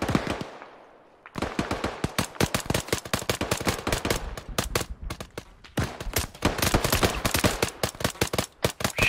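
Repeated gunfire in the military shooter game ArmA 3, bursts of sharp automatic and single shots crackling close and loud, with a short pause near the middle before the volleys resume.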